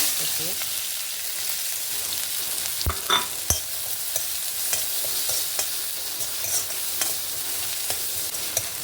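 Onions frying in ghee for a street-style masala stuffed bread, a steady close sizzle with scattered crackles and the scrape of stirring, and no talk.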